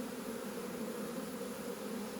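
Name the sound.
honeybees buzzing near hive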